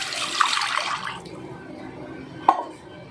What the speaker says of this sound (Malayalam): നമ്മൾ മാറ്റി വെച്ചിരിക്കണ രണ്ടാം പാല് ഇതിലേക്ക് ഒഴിച്ചു കൊടുക്കാം.